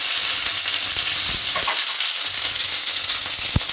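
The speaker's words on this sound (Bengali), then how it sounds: "আর ভেন্ডিটা ভালো করে ভেজে নেব" Okra (bhindi) frying in oil in a pan, a steady close hiss of sizzling throughout with a few faint clinks, no talking.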